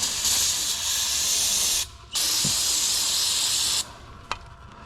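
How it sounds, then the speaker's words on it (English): An aerosol can of brake parts cleaner sprays under a Z31 300ZX in two long, loud hissing bursts with a brief pause between, followed by a faint tap and no talk. "when you spray with brake parts cleaner"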